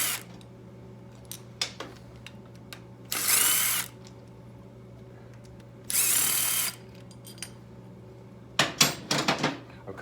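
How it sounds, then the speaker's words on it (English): A power tool whirs in two short, harsh bursts a few seconds apart, followed by clattering metallic clanks, close by in a quiet space, during work on a 1985 Harley-Davidson FXRS SP engine. "May as well use some power tools."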